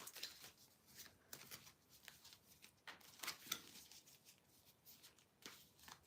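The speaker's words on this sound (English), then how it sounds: "I'll stop shuffling these cards when it feels right" Tarot cards shuffled by hand, a steady run of soft riffling and slapping bursts with brief pauses between them, close and fairly quiet with no talking.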